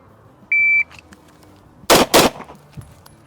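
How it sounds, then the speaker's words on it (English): A shot-timer beep sounds, then about a second later two sharp, loud pistol shots fired from the holster ring out in quick succession during a police shooting qualification. "from the holster, 2 shots in 2 seconds or less"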